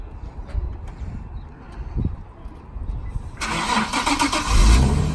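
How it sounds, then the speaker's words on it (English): A Nissan 370Z with a new aftermarket exhaust cranks briefly and then fires into a loud, rumbling idle, with faint scuffs and low noise before the start. "Start her up, fool."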